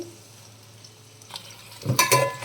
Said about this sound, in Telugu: మధ్య మధ్యలో ఆగి ఆగి కలుపుతూ ఫ్రై చేసుకోవాలి